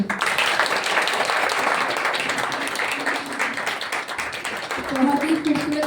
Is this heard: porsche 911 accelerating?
no